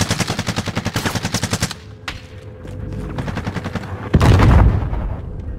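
Intense gunfire in a Call of Duty Warzone plunder match: rapid automatic bursts open the clip, then scattered shots and rumbling follow, and a loud heavy blast or volley hits near the end.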